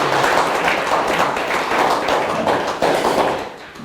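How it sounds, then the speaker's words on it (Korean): Audience applause welcoming a guest professor's special lecture at a cultural education center, a dense, steady burst of many hands clapping that holds for several seconds before thinning slightly at the end. "힘찬 박수로 맞이해 주십시오"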